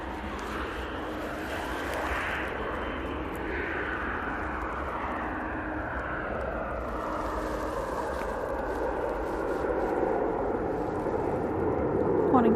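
A KLM airliner arriving at Manchester Airport makes a broad, steady jet roar that grows slightly louder toward the end, heard from a distance with voices chatting nearby.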